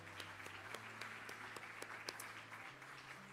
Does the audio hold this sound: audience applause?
yes